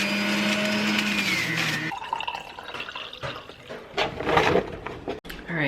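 A blender grinds celery into juice with a loud steady whir for about two seconds, then stops, leaving quieter kitchen clatter, dripping and pouring.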